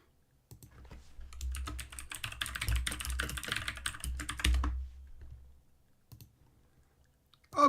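Quick bursts of keystrokes clatter on a computer keyboard up close, a busy run of typing that fades out into silence with a final faint click or two.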